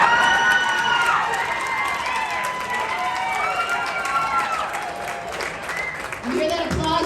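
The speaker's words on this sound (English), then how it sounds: "You hear that applause, gentlemen?" A comedy club audience at the Reno Laugh Factory cheers and claps in a sustained, loud wash, with whoops and shouts rising above it throughout.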